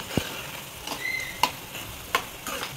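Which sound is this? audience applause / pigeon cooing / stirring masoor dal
stirring masoor dal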